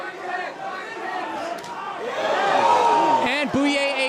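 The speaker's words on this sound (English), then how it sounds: "That had the crowd buzzing" Crowd at a heavyweight boxing match rumbles and buzzes, rising into excited shouts and whoops, with a commentator talking over the noise.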